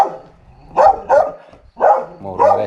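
A dog on a hiking trail near Rimetea barks and whimpers in four separated bursts, close and moderately loud, with whiny tonal yelps in the later calls.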